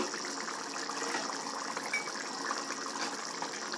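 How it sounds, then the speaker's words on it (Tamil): Garlic curry simmering in a clay pot, giving a steady bubbling, watery hiss that stays even and close throughout with no talking. "நல்லா கொதிச்சிருச்சு நல்லா குறுகியும் வந்துருச்சு"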